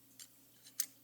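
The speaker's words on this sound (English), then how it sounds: "even up the ends, and then cut this in half" Scissors snip bonnie cord being trimmed for a foam frog fishing lure, three quiet, close crisp cuts with the last the sharpest, in a near-silent room.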